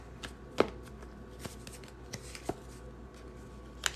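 A deck of tarot cards being cut and shuffled, giving a few soft, sharp card slaps and riffles spread out over a quiet background, with no talking.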